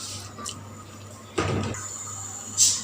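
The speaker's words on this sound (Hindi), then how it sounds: "अभी इसमें सिर्फ ½ कप पानी ऐड कर देंगे" About half a cup of water is poured into a pan holding onion for stuffed karela, a short splashing pour at close range over a steady low kitchen hum, with a brief clink at the end.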